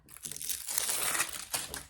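Plastic wrapping crinkles as it is pulled off a diamond painting kit, a close, busy crackle lasting about two seconds with brief pauses, no talking.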